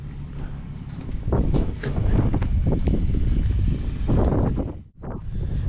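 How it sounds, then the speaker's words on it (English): Gusty wind buffets the microphone at a gorge lookout in outback Queensland's Bladensburg National Park, a loud, continuous low rumble with one brief lull near the end. "Mind the wind, guys. Hopefully it's not too bad."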